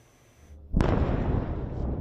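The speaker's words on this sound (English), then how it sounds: "An explosion in Beirut early Monday." An explosion in Beirut hits with a sudden loud blast after a quiet moment, then rolls into a sustained, heavy rumble.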